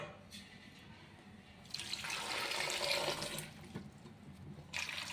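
Water splashes and gushes into a pot for boiling for a couple of seconds, with a shorter pour near the end and quiet handling noise before.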